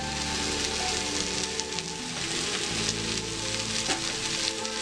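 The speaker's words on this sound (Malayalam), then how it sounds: "കുറച്ചും കൂടി വെളിച്ചെണ്ണ നമുക്ക് ഇതിലേക്ക് ഒഴിച്ചു കൊടുക്കാം" Coconut oil poured into sizzling Kerala-style chicken masala with onions and pepper gives a dense, continuous frying crackle and hiss, close and steady, with no voices.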